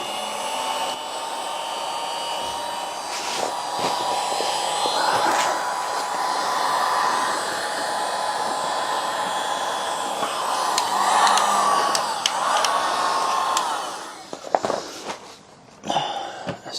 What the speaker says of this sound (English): if I can get the heat gun on that, should be able to bend that down